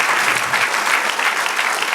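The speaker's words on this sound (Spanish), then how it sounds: "Dale un aplauso al Señor." A church congregation claps together during a Spanish-language sermon, a brief dense burst of applause filling the space, steady and fairly loud with no voice over it.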